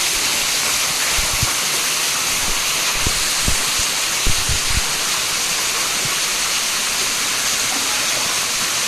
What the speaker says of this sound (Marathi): बघा ह्या सगळ्या मुळा बघा आणि हे सगळं पाणी पडत आहे. हा बाहेर धबधबा आहे.